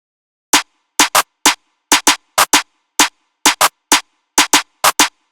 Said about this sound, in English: so we throw in a snare pattern to bring that bounce